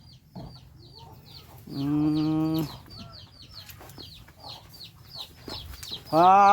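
Chickens cluck and squawk close by on a rural Thai farm, with loud bursts of rooster-like calls, sharp clucks and quieter chatter in between.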